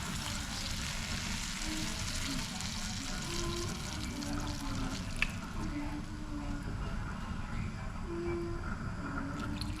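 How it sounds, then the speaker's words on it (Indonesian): Water is poured into a hot cooking pan while making a tempeh and green chili dish, producing a steady low splashing hiss and sizzle that runs throughout at moderate level without voices. "Nah, air berikutnya, air kita tuang."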